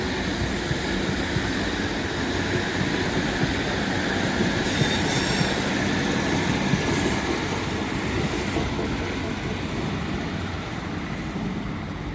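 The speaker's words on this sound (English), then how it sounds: "Train now arriving in is a 397 going to Liverpool Lime Street." A Class 397 train pulls into Wigan North Western station on a Liverpool Lime Street service, giving a loud, continuous rumble of wheels on rails with faint squeals, steady and close throughout.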